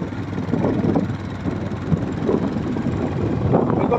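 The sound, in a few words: helicopter flying overhead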